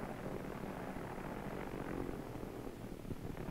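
A navy torpedo plane comes in to land on an aircraft carrier deck, its propeller engine a faint, steady drone heard from a distance with no talk over it.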